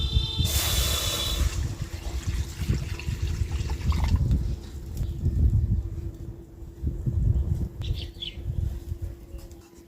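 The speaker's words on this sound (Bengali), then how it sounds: "আমগুলো সেদ্ধ করার জন্য কড়াইয়ে দিয়ে দিচ্ছি জল" Water poured into a hot wok to boil raw mangoes hits with a sharp burst of hissing, then settles into a steady sizzle and bubbling that fades over several seconds.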